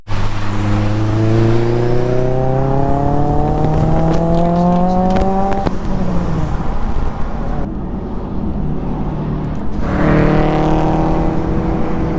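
An Audi S4 with a V8 engine revs hard on the way to a Japanese car show, its loud rising engine note climbing through the gears, easing off, then climbing again, heard close from the cabin.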